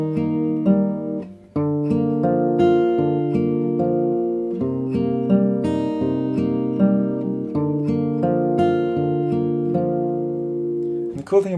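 Fingerstyle acoustic guitar plays a Travis-picked arrangement of a song, steady alternating bass under ringing melody notes, close and clear with no talking, a short pause near the start before the pattern resumes.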